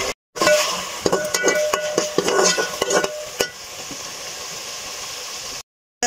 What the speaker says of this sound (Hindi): अब ये दूसरा लहसुन है, इसको मैं पहले लाइट सा ब्राउन करूँगी